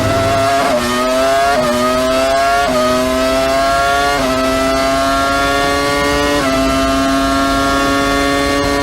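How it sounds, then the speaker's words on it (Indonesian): A 2000s-era Formula 1 V10 racing engine screams loudly up through successive gears toward about 20,000 RPM, each shift dropping the pitch before it climbs again, sustained and close. "gilanya mesin F1 tahun 2000-an yang bisa dibejek sampai menyentuh angka 20 ribuan RPM kayak gini."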